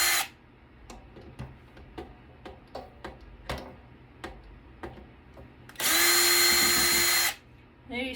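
A power drill backs screws out of a networking equipment board being scrapped. About a dozen sharp ticking clicks land in uneven rhythm, then a loud, steady whine runs for about a second and a half, up close.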